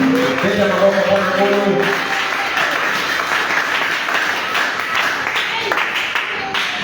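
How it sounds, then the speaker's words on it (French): Church congregation applauding and cheering for the Lord during a sermon, a steady wash of many hands clapping through a large room, with a voice speaking over the start before the applause carries on alone. "Acclamons très fort pour le Seigneur."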